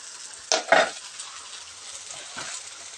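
Thai holy basil (pad kaprao) stir-fries in a pan with two quick clattering stirs and a later scrape over a continuous sizzle.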